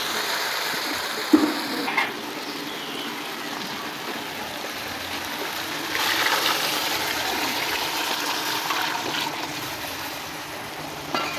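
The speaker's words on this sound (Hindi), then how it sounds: "अब हम इसमें लगाएंगे पानी।" Water poured into a cooking pot of browned food in a Pakistani village kitchen, a steady soft gushing and splashing held at a moderate level with a few small clanks, and no talking.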